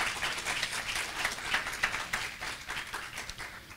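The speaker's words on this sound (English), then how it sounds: "Give God a hand clap," A church congregation claps hands together during a Church of God service, a dense, steady wash of clapping that holds at moderate loudness throughout with no voices over it.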